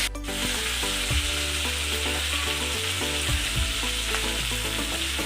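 Chicken boti pieces cook over an open flame, giving a loud continuous sizzle and crackle with scraping stir sounds and a low steady hum underneath.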